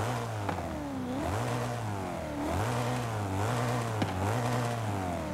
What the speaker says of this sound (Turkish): Kendi motoru gazlayalım mı?